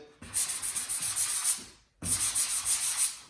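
A drywall patch is sanded by hand in two bursts of quick back-and-forth strokes, each a rhythmic gritty rasp, with a brief pause between them.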